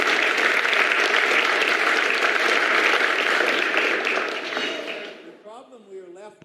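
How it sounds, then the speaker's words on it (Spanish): An audience at a PorcFest lecture applauds in dense, loud, continuous clapping for about five seconds, which then fades out as a voice begins. "Aplausos"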